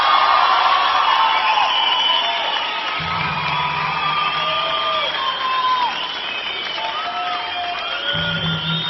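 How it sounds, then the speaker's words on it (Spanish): An audience applauds Oscar García, a steady wash of clapping with scattered cheers and whoops, loud and sustained throughout. "Un aplauso a Oscar García"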